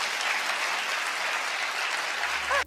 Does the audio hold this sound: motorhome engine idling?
no